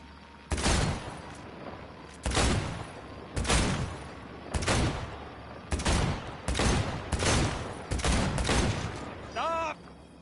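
Gunfire in Cyberpunk 2077 crackles in about seven loud, evenly spaced bursts of rapid shots, each lasting roughly a second, with a brief warbling electronic chirp at the end.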